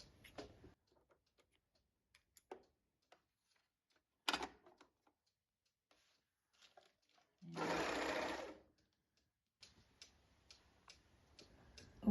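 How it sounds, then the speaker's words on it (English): A serger overlocker sewing machine runs in one steady, loud burst of about a second, preceded by a few scattered clicks and taps from handling the machine and turning its flywheel. "And then you would always turn the flywheel by hand, and then you're ready to sew."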